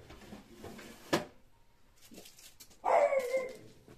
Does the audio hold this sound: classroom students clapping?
no